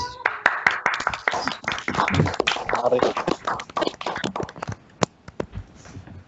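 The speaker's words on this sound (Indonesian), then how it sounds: "Kita berikan tepuk tangan untuk Bapak Hari Priwiratama, MSc." Uneven clapping for a speaker at an online talk on oil palm fruit borer control, a burst of close hand claps mixed with voices that thins out toward the end.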